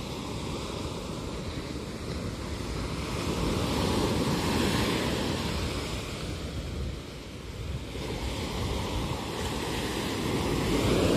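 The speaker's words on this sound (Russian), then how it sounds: "Ну вот, песчано-каменистый пляж." Sea waves wash onto a sandy-stony beach in Mersin, Turkey, a continuous roar of surf with gentle swells and wind buffeting the microphone, steady and fairly loud with no speech.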